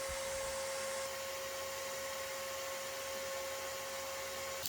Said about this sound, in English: I took my shop vac and vacuumed up the excess dust.